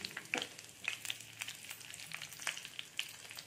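Black mustard seeds, whole cumin and curry leaves crackle and sizzle in hot oil, a steady close frying hiss broken by sharp popping spits scattered through the moment, with no talking.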